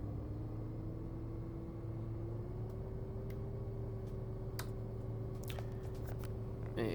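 A helicopter engine spools up with a steady droning whine that slowly rises in pitch over low rumble, continuous and close, with a few faint clicks near the end.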